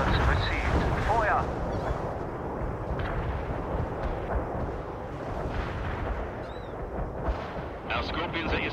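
Artillery strike barrage in the strategy game World in Conflict, a continuous rumbling wash of heavy blasts and distant detonations sustained throughout, with a voice faintly present under the din.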